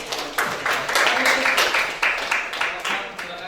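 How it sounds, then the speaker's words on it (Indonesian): A small group claps in scattered, uneven bursts in a classroom training session at a vocational school, the patter near and moderately loud, rising and fading over a few seconds. "Tepuk tangan."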